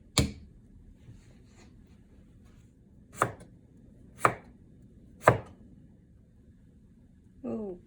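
A knife strikes garlic cloves on a cutting board in a home kitchen while stir-fried kohlrabi is being prepared: a few sharp, isolated chops spaced about a second apart, close and clear, with small scattered knocks between.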